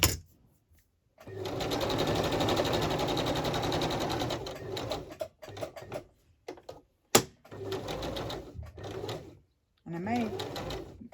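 A sewing machine stitches fabric for an embroidered tag in several bursts: one long steady whirring run, then shorter stop-start runs separated by brief pauses and handling clicks, with a voice speaking faintly between stitches.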